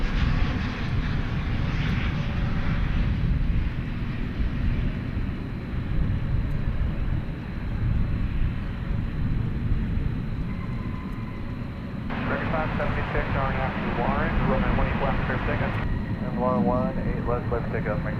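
Engines of an American Airlines Airbus A321 at night at DFW Airport give a continuous broadband roar with low rumble, while people talk over it and radio chatter cuts in near the end.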